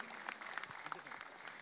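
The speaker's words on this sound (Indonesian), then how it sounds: "Beri tepuk tangan dan semarak yang meriah Bapak Ibu." Steady applause from a crowd watching an election peace declaration parade and procession for the 2024 polls, a continuous dense patter of clapping kept at moderate distance with no clear talk above it.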